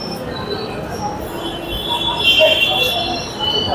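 Metro train wheels squealing in thin, high-pitched tones over a steady rumbling roar, heard below a metro station in Karol Bagh, Delhi, swelling briefly louder midway.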